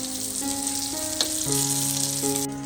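Fish, a small shark with its liver, frying in a pan in a Konkan village kitchen: a steady, close sizzle runs the whole time with a sustained tonal hum alongside, then stops abruptly at the end.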